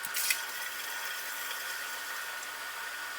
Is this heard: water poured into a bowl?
yes